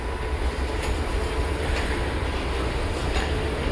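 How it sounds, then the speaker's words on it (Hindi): Azad Hind Express, the Pune–Howrah train, arrives behind a WAP 7 electric locomotive at a station platform, with a loud, continuous rumble and rhythmic wheel clatter passing close by, and no voices. "train number 12129 Pune Howrah Azad Hind express Vijayawada WAP 7 के साथ"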